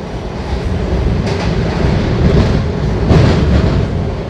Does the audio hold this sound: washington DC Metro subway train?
yes